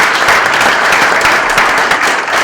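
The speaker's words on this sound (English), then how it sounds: "Just a round of applause for Derek." Audience applause for Derek at a civic gathering in Lawrence, a steady, dense round of clapping from a crowd that holds evenly loud for the whole stretch.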